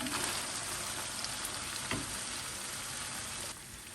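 A large chopped onion sizzles and crackles loudly in hot oil, a dense continuous frying noise with an occasional stir, close up.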